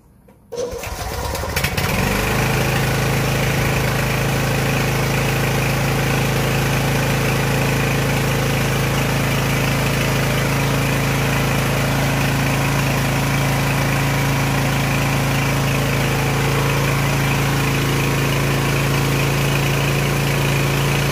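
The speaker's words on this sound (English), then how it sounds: "We will first test the generator on petrol." A 48V DC generator running on petrol starts up outdoors, a brief cranking sputter giving way to a loud, steady, close engine drone that holds unchanged for about twenty seconds, with no voices.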